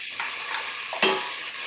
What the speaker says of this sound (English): I love the sizzling.